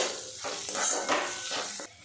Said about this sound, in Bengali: কিছুক্ষণ নাড়াচাড়া করে মুগের ডালটা আমি ভাজা ভাজা করে নেব